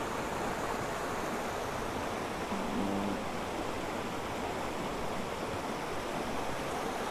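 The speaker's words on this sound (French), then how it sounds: "ce ruisseau, cette rivière-là, elle ne remonte pas non plus dans la montagne, hein, elle descend" A mountain stream rushes downhill in a steady, broadband wash of flowing water, close and constant with no pauses throughout.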